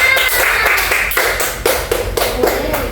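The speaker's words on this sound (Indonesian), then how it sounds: "Tepuk tangan dulu untuk semuanya." Loud classroom clapping in a micro-teaching lesson comes as sharp, distinct hand strikes in a rhythmic pattern, close by and punchy, repeating for about three seconds.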